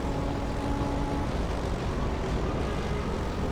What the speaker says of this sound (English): Why do I hear an engine?